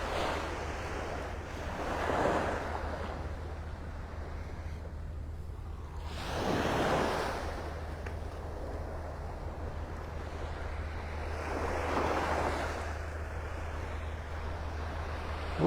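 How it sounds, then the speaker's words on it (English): Ocean waves break on the beach at Clam Pass in North Naples, Florida, three soft surges rolling in at a steady pace over a constant low wind rumble, with no voices. "let the sounds of the waves wash away your worries"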